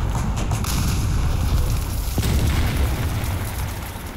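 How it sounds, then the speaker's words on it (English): A bomb falls and explodes in the War Thunder video game, and a loud, sustained low rumble of blast and battle noise fills the whole stretch without letting up. "Oh no, I hear a bomb falling."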